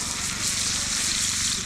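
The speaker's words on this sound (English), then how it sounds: "Okay, here we go with the steak. Hopefully we get a bit of a sizzle up here." Steak sizzles on a campfire grill during a riverside camping cook-up, a steady, dense hiss at close range with no talking.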